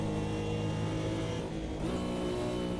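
GT1 race car engine in the Automobilista 2 racing sim, a steady, loud harmonic drone held at high revs with a brief dip in pitch and a rise again near the end, with no voices.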